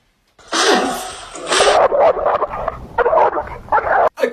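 A dog close by lets out a rapid string of excited yips, sneezy snorts and short barks, loud and continuous.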